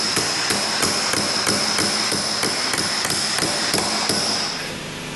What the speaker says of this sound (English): I'll use the brass chisel.